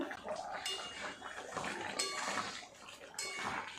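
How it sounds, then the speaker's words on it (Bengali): A metal lid comes off a pot of chicken and potatoes simmering for a curry, giving a few quiet clinks and metallic scrapes spaced across a few seconds in an otherwise hushed kitchen. "ঢাকাটা এবার খুলে দেখব চিকেনটা কেমন হলো"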